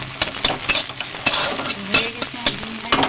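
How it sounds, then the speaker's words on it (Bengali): An egg fries in hot oil, giving a steady sizzle broken by repeated scrapes and clinks of a spoon stirring against the pan, close up and fairly loud with no talk. "হয়ে গেছে আমার ডিম ভাজা"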